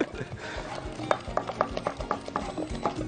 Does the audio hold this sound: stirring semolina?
yes